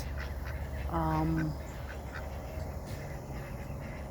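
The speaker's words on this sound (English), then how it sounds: "then I have a couple other ducks" Backyard ducks give a short run of nasal quacks, close and clear for about half a second, set against steady outdoor background noise with someone talking nearby.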